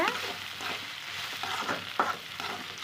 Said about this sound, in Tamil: வெண்டைக்காயை சேர்த்துட்டு நல்லா வணக்கிக்கோங்க